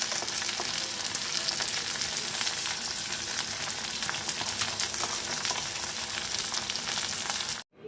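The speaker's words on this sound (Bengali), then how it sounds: "এখন কাজু, পোস্ত আর সাদা তিল বাটাটা আমি দিয়ে দেবো এর মধ্যে।" Okra fries with a ground paste of cashew, poppy seed and white sesame with green chilies, a loud continuous sizzle with occasional stirring, ending abruptly.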